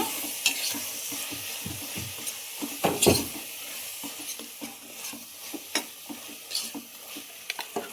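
Turmeric and coriander powder fry in oil for a methi pulao. A soft sizzle runs under repeated close spoon scrapes and taps against the pan, irregular but steady, with no talking.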